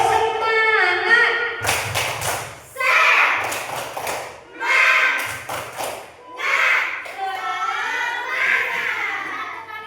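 A group of students stands and performs a rhythmic clap-and-chant ice-breaker in a classroom, with bursts of patterned clapping and thumps alternating with loud chanted voices and shouts.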